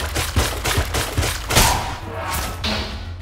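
Gunfire from the video game Enter the Gungeon, a run of sharp repeated shots in quick bursts, loud and close, followed by a lower thud and a brief tonal tail.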